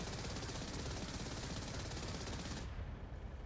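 A ZSU-23-4 Shilka self-propelled anti-aircraft gun in the DCS combat simulator fires one long, unbroken burst of rapid automatic fire, loud and close, that stops abruptly just before the end.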